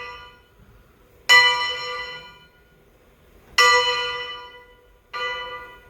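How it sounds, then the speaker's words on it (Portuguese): Swinging church bell in Mariana tolling a dobre, three loud resonant strikes spaced unevenly with long ringing decays between them, close and clear with no voices. "o nosso dobre é o balançar do sino, como eu estou demonstrando aqui agora."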